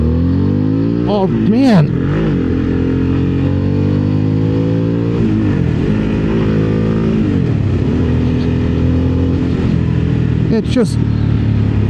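Harley-Davidson Sportster S motorcycle engine revs loudly and close up, rising and falling through several throttle blips over a steady growl, with someone talking briefly over it.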